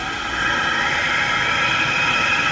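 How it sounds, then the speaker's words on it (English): Propane foundry burner roaring with a steady broadband hiss that swells slightly as its airflow valve opens, continuous and close throughout. "And this valve controls the airflow coming in, so when I turn it on,"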